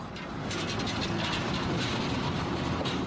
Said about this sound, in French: On attelle la locomotive diesel à l'autre extrémité du train pour le voyage retour.